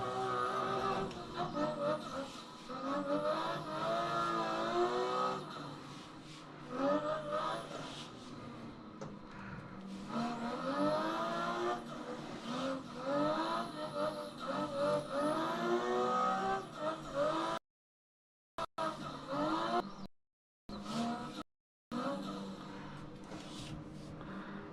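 BMW E92 engine in Assetto Corsa, revving up and down through repeated gear changes with rising and falling pitch sweeps, loud and close, with tire squeal and brief drops to silence near the end.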